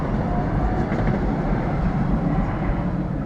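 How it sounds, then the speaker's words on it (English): MAX light rail train passes close by at night, a continuous loud rumbling roar with faint clattering of wheels, steady throughout with no voices. "That is a Max train."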